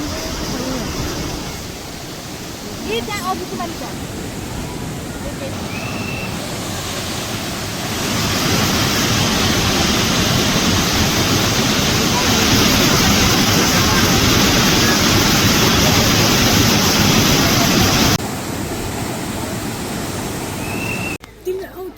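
White water pours down at a waterfall in Pokhara, a loud broad rushing roar that swells and holds strong through the middle before easing, with wind buffeting the microphone.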